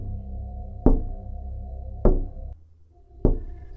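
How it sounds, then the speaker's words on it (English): Three slow, deliberate taps on a window, evenly spaced about a second apart, each a sharp close knock with a short ring, over a low ambient hum. "Then I heard it, a soft tapping on the window."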